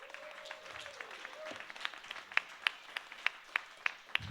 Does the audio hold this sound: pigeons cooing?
no